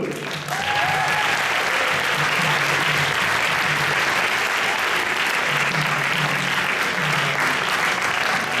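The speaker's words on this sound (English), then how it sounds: "Give them a round of applause, too" A crowd's applause at an Indonesian consulate stage event, honoring the Consul General, runs as dense, steady clapping for most of the stretch, loud and sustained from just after the start to the end.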